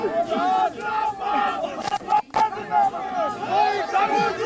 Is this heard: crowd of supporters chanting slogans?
yes